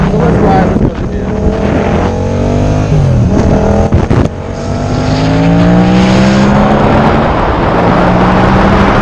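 A car engine revs and accelerates as it drives off, gears rising in repeated sweeping climbs under steady road and wind noise, loud and close from inside the vehicle.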